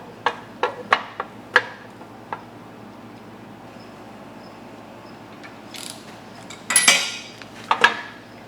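Bolts run down by hand on a differential carrier during a 1964 Dodge Polara Sure Grip rear axle build, giving sharp metallic clinks and taps in a scattered series, then a busier cluster of clanks near the end.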